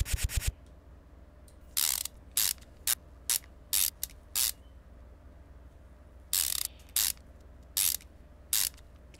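Ratchet wrench clicking in a car mechanic video game as parts are screwed back onto an engine, including the throttle; repeated short bursts of rapid ratcheting separated by pauses over a steady low background hum, with no talking.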